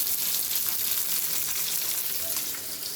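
Food sizzles steadily in a hot pan, a dense, even crackle of oil that holds at the same close, moderate level throughout, with no voices.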